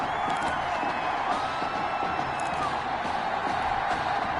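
Stadium crowd in the Madden NFL 21 American football video game, a steady, loud roar of cheering and buzzing that carries on without a break for the whole stretch.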